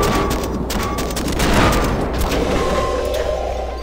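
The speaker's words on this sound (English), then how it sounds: "This carpet bombing I'm doing right now has killed the brain." Carpet bombing in the video game Cortex Command comes as a continuous rumbling barrage of overlapping explosions, loud and dense, swelling slightly midway with no gaps between blasts.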